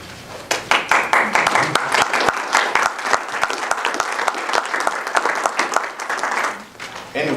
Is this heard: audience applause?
yes